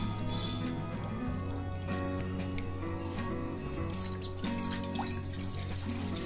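Water runs from a tap or is poured into a pot, one cup measured for one cup of rice flour for papad dough, a steady close trickle and splash with faint background music.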